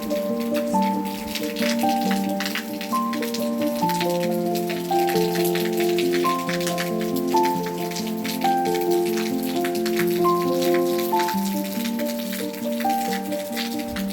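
Outdoor rainfall patters and drips steadily throughout, a dense even hiss of drops running beneath a constant melodic music track.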